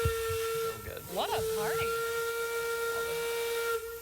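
A steam train whistle blows in a long, steady, loud tone with strong hiss of steam, held nearly the whole time, while people talk and exclaim over it.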